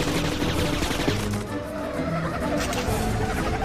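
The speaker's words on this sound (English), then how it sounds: "Machine guns acquired." Machine gun fire in the Cars 2 video game, sounding as dense, continuous rattling bursts over engine and action noise, loud and steady throughout the short stretch.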